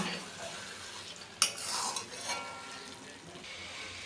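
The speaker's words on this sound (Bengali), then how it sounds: "আর দিয়ে দিচ্ছি অল্প একটু গরম মশলা এখন ভালো করে মিলিয়ে নেব" A spoon stirs banana flower curry with ghee and garam masala in a pan, giving a sharp metallic clink followed by soft scraping and faint sizzling.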